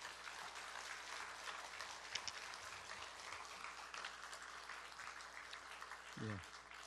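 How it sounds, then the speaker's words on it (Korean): Steady applause from a church congregation at a Sunday service, dense clapping filling the room for the full stretch, a short voice surfacing near the end. "목사님을 박수로 모시도록 하겠습니다."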